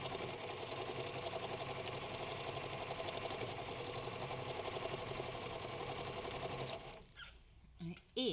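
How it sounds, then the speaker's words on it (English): A sewing machine stitches through painted fabric with a rapid, even mechanical chatter for about seven seconds, then stops, leaving a few quieter handling sounds. "So I'm going to show you what happens when you start stitching on it."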